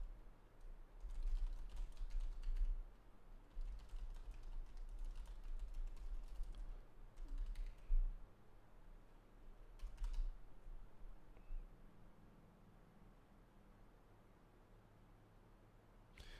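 Keys clacking on a computer keyboard in quick, irregular bursts, close but soft, fading and thinning toward the end, with no talking over it.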